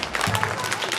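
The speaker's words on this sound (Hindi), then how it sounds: "हमारे महंत सर के लिए जोरदार तालियों से स्वागत करें उनका" A crowd at an Indian Republic Day ceremony claps to welcome a guest in a short, dense burst of applause. Voices can be heard over the clapping.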